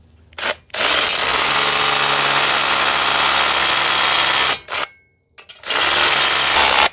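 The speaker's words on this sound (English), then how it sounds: "Now I'll drill the rest of the holes." A power drill fitted with a masonry bit bores into sandstock brick for a Colorbond gate repair, a loud steady whine in two long bursts with a short stop between.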